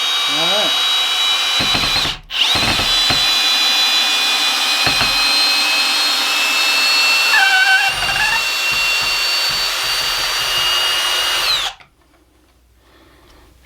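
A Kobalt 24V brushless drill driver with a 4-amp-hour battery runs in drill mode with a steady, loud whine that holds for several seconds, briefly stops, then runs again before cutting off. People talk over part of it.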